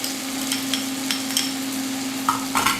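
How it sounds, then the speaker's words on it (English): Scallion and fresh garlic frying in a pan for an ital ackee dish, a steady sizzle with a few light stirring scrapes, no one talking. "Add some scallion or green onion. Gonna add some fresh garlic"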